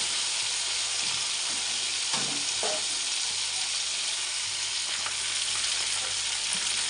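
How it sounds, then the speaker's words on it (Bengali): Fish fries in a pan with a steady sizzling hiss of hot oil, with a few clatters of turning and stirring around the middle and no one talking. "আরেকটু ভাজা হবে, ঘুরিয়ে দিলাম মাছটা"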